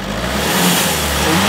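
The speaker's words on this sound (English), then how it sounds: "Now, wide open throttle, slam it to the..." Car engine held at wide open throttle, loud and steady, a sustained high-revving drone with no pause, close to the microphone; the engine has an intercooler that is leaking.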